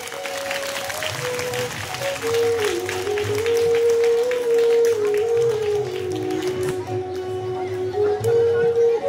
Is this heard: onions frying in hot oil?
no